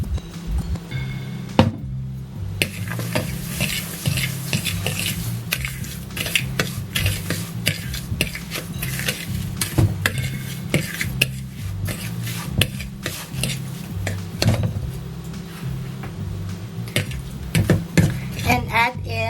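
A utensil scrapes and stirs breadcrumbs and milk in a bowl for a Japanese-style hamburger mixture, with continuous close clattering and rubbing strokes and no speech.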